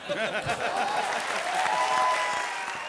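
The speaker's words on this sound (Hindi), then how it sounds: "जोरदार तालियां" Studio audience of a comedy show gives loud, continuous applause for the full few seconds, a dense wash of clapping with voices mixed in.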